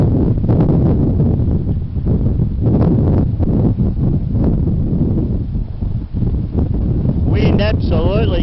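Strong wind gusts buffet the microphone at the Geelong waterfront near Cunningham Pier during a sailing race, a loud, steady roar of rushing air across the whole clip.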